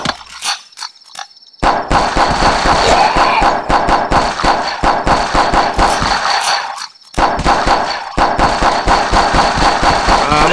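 Rapid, sustained gunfire from the zombie-survival game The Last Stand crackles almost continuously, with steady repeated shots breaking off briefly only a couple of times.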